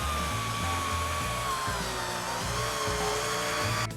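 Power drill driving a single screw through sheetrock into wood, a steady motor whine that drops in pitch as the screw bites, close and loud with no talk.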